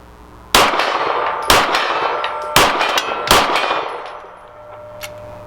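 Several 9mm pistol rounds from a Walther PDP Match steel-frame handgun striking a steel gong target, four sharp metallic clangs each followed by a ringing decay, loud and distinct with no talk over them.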